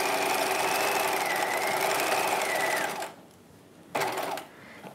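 A sewing machine hums steadily while stitching a 1950s-style halter dress bodice, stops abruptly, then gives one short burst of stitches before going quiet again.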